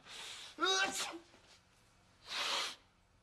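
Two sneezes close to the microphone, a voiced 'ah-choo' followed about a second later by a second sharp, breathy burst.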